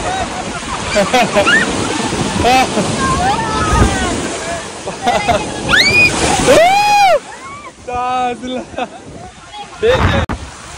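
Ocean waves and surf wash in at high tide on Pirwadi beach in a loud, rushing roar with wind buffeting the microphone, while excited voices shout and call over the water throughout.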